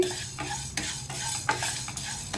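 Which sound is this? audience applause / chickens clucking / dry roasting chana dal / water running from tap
dry roasting chana dal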